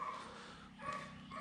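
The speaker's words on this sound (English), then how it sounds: "Excuse the dog's barking too." Faint, brief yips and whining barks from a dog in the background, thin and tonal, over a quiet room hum.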